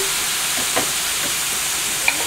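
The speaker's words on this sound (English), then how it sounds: "So we're going to go ahead and work that garlic and seasoning in." Garlic and seasoning stirred into sizzling shrimp scampi in a hot pan: a soft, steady sizzle with a couple of brief scraping stirs, no voices.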